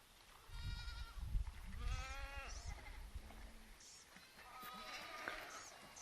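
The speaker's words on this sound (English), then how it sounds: "Got some goats, as you can hear and see." Several goats bleat in short wavering cries at a desert oasis in Baja California, some near and some farther off, over soft outdoor background noise.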